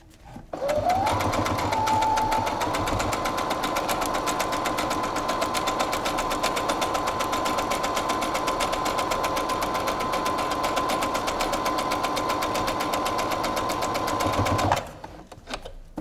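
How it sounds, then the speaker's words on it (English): A sewing machine runs continuously while stitching ribbon along the edge of an outdoor placemat, a close, steady mechanical whir that starts abruptly and stops near the end. "So I've just started it here using a machine"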